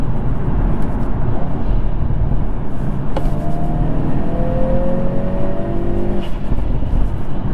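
A 2021 Hyundai Veloster N with a DCT gearbox accelerates hard, with a loud, steady engine roar heard from inside the car and rising tones as it climbs through the gears.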